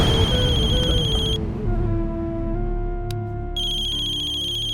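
A phone ringtone chimes in bright repeated tones, stops for a couple of seconds over a low background hum, then starts ringing again.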